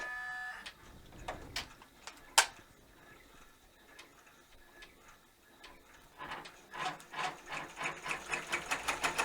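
An embroidery machine stitches an appliqué outline on fabric in a hoop. It gives quiet scattered ticks, then a steady, quickening run of rapid mechanical clicks that grows louder toward the end, with no talk.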